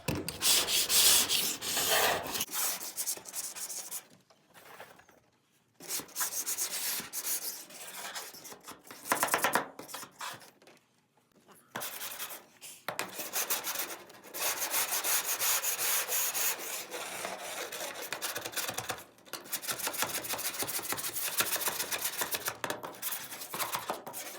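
Converted rust is scraped off the roof of a van in long, loud, continuous rasping strokes with brief pauses between passes, close up and alone.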